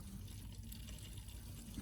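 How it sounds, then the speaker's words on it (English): An Audi A3 8V auxiliary water pump circulates coolant at full operating temperature after a heater matrix replacement, giving a steady low hum with a soft, continuous liquid wash throughout. "if you listen, the auxiliary water pump pumping round"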